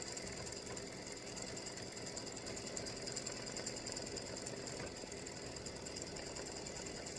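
An embroidery sewing machine runs satin stitching, giving a fast, even mechanical whirr and clatter. The sound is faint and steady and continues without a break, with no voices.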